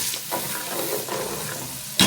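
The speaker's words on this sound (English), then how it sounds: "Then I will stir." A spoon stirring achicha, Nigerian pigeon pea, in a pot: soft scraping swirls over a quiet background, ending in a sharp clink of metal against the pot.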